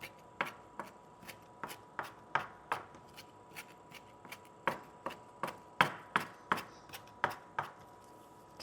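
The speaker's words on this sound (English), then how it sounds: "once you start chopping, people can smell it" Fresh parsley is chopped by hand on a board in a cooking demo, giving about twenty crisp, quick knife taps in an uneven rhythm, close and fairly quiet.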